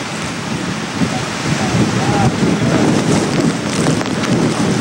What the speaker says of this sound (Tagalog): Uugong ang hangin na may kasabay na ulan at may pagkakataong kikidlat pa